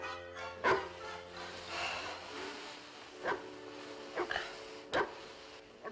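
A dog gives a few sharp barks spaced seconds apart, indoors and moderately close, with quiet pauses between them.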